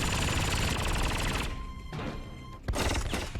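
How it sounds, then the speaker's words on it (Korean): Dense rapid gunfire from a sci-fi action film scene, a loud sustained barrage of shots that thins briefly before another heavy burst near the end. "딱총 공격!"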